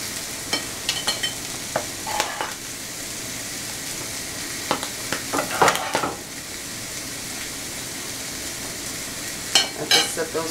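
Eggs sizzle and fry in a pan for a homemade sausage, egg and cheese muffin, a steady crackle with scattered louder pops and scrapes, close and without talk.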